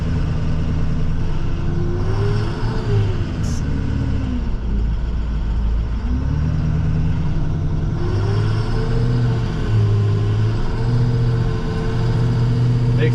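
A car maneuvering to park on a snowy street after a winter storm, engine running steadily with rising and falling revs as it shifts back and forth, heard from nearby over a low hum.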